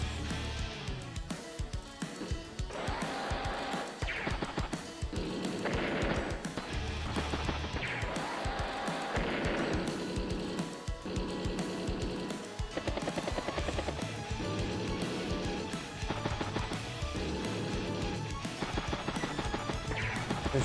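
Anti-air tank attack in Advance Wars: Days of Ruin: repeated crashing hits and rapid bursts over steady game music, with dense impacts running continuously throughout.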